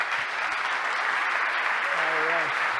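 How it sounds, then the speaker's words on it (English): A conference audience applauds a speaker taking the stage at a tech talk, a steady wash of clapping lasting a few seconds, with a brief voice rising near the end. "So please give him a big round of applause"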